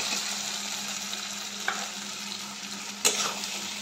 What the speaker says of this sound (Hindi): ये देखिए मसाला जो है हमारा पूरा तेल छोड़ चुका है तो इसमें अब मैं आलू ऐड कर दूँगी।